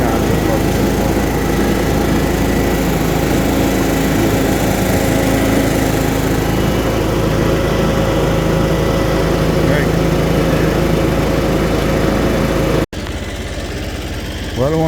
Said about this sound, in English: We'll give this a quick mow so we don't get buried over there.